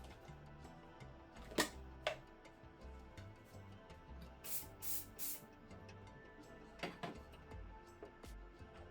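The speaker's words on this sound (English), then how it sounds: "Spray it." Short hissing bursts of a spray can coating an object for 3D scanning, a few quick sprays, faint and close against a quiet background with small clicks.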